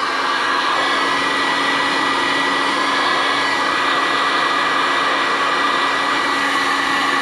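A heat gun warms the crank bearing of an Aprilia RS 125 Rotax 122 engine during assembly, giving a loud, steady blowing roar with a constant electric whine, close and unbroken throughout with no talk.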